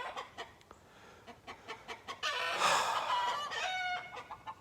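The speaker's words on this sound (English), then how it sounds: "the chickens are all going to make some noise now" Chickens clucking repeatedly nearby, short rhythmic clucks building into a louder, drawn-out squawking call from one bird.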